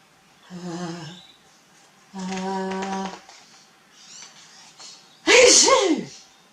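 A voice builds up with drawn-out 'ah' sounds, then lets out a loud, exaggerated sneeze, performed by a person imitating it.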